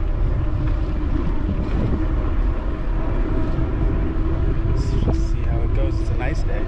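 Heavy wind buffeting a GoPro camera during a late spring bike ride, a constant loud low rumbling roar across the whole stretch, with faint voice fragments breaking through near the end.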